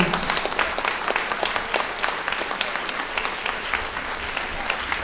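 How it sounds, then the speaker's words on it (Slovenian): A seated audience at the Dobova community presentation applauds the mentor, dense steady clapping from many hands filling the room, loud and continuous with sharp individual claps throughout. "Prosimo za en aplavz tudi za mentorico."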